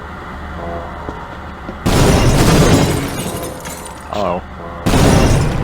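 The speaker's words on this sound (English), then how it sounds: "Stuff is exploding left and right." Explosions in the video game Half-Life 2 Episode Two hit as two loud, booming bursts a few seconds apart, each with a crashing, shattering roar, while a voice speaks briefly between them.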